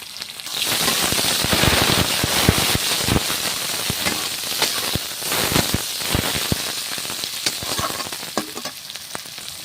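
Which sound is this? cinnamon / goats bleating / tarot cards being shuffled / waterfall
cinnamon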